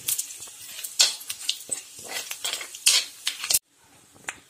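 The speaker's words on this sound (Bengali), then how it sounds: "মাছগুলো ভাজা হয়ে গেছে ওই তেলের মধ্যেই আমি দুটো শুকনো লঙ্কা তিনটে তেজপাতা আর অল্প জিরা" Dried chillies, bay leaves and cumin hit hot oil left from frying rohu fish, giving a crackling sizzle broken by sharp spoon scrapes and clinks against the pan. The sound stops abruptly near the end, leaving a quiet tail.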